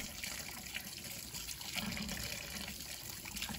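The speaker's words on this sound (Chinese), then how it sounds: "用流动水多冲洗几遍。" Tap water runs steadily over chicken feet being rinsed in a sink, giving a faint continuous splash and trickle with no voices.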